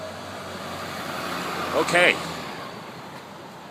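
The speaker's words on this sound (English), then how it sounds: "let this truck go by. Sorry about the noise." A truck rumbles past on a nearby road with steady traffic noise, while someone says a single short word partway through.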